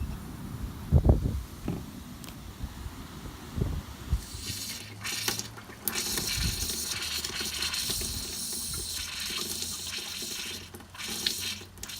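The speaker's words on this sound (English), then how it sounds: "I can see the water running at the sink" Water runs steadily from an RV trailer sink faucet, a continuous rushing hiss that starts after a few quiet knocks and carries on to the end.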